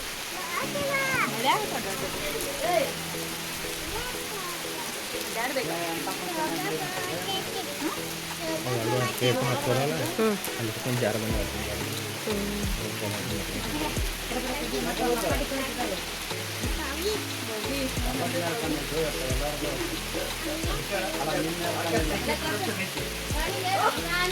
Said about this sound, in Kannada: ನಾವು ಮ್ಯಾಲೆ ಹತ್ತಿ ಬರ್ಬಿಡ್ಕು ಫುಲ್ ಮಳೆ ಸ್ಟಾರ್ಟ್ ಆಯಿತು